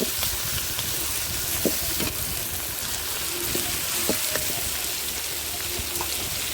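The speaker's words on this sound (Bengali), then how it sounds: "দিয়ে আমি একটু কষাই নেব।" Chicken pieces fry in hot oil with ginger-garlic paste for a village-style curry, giving a steady crackling sizzle with scattered sharp pops and occasional stirring.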